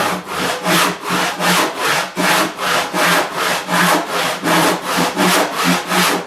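A hand saw makes a plumb cut through timber in a traditional joinery workshop, its steady back-and-forth strokes rasping loudly at close range, about fourteen even strokes with no pauses.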